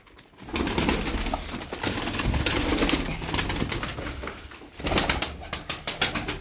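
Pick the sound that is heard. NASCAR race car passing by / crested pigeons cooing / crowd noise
crested pigeons cooing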